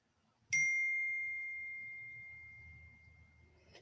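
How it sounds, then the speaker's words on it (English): Single bright phone notification ding that rings out clearly, then fades slowly over a few seconds against a quiet background. "my phone has been dinging all day today"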